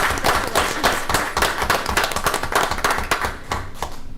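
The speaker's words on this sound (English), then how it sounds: "I'd love to give her a big round of applause." A round of applause at a board meeting: a smaller group clapping, with distinct individual hand claps audible in an uneven patter, close and fairly loud throughout.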